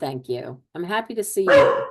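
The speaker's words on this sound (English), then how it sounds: "that's my dog" A pet dog barks a few short, bright yips right at the end, close and loud, layered over cheerful conversation in a video call.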